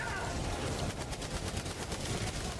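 A turret in the video game Helldivers 2 fires bullets in rapid, continuous bursts, dense overlapping gunfire that fills the whole stretch with a steady rattling pulse.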